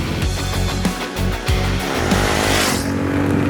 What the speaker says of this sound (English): Next thing I like is the exhaust note. I don't know if you can hear it, but it's nice and bassy